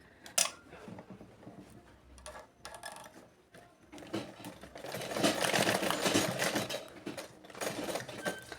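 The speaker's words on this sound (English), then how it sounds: "Then I'm going to stitch like half-inch away from the neckline" A sewing machine stitches bias binding along a corset neckline, coming in short bursts of rapid mechanical clatter with pauses between, then a longer steadier run in the second half, close and fairly loud.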